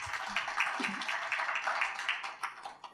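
An audience at an inauguration event for a cultural day claps in a dense, even patter of many hands that keeps going throughout, with no speech over it.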